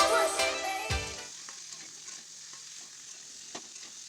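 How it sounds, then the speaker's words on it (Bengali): Cut potato and brinjal hit hot mustard oil, opening with a loud burst of sizzle and clatter that quickly dies to a faint, quiet fry with a few light taps. "নিয়ে দিয়ে দিলাম সরষের তেল, কেটে রাখা আলু আর বেগুন ওর মধ্যে দিয়ে দেব।"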